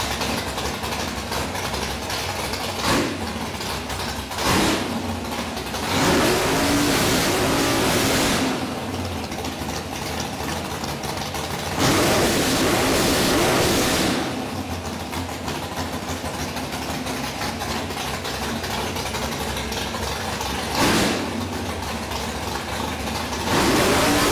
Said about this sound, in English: We just want to show you that same 427 Windsor motor without our mufflers on here.